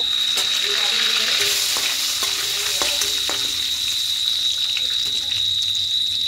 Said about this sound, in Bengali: এখানে ফোড়নে দেব গোটা জিরে আর 2টো তেজপাতা দেব।